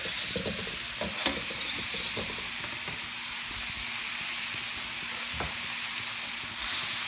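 Bean sprouts being stir-fried in a hot pan for a spring roll filling: a steady sizzling hiss with intermittent scraping and tossing sounds, close and moderately loud.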